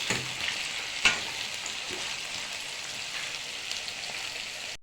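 Local chicken frying in a pan with onion and cumin, no water added yet, gives a steady soft sizzle at moderate level. One sharp click or clatter of a utensil stands out early on.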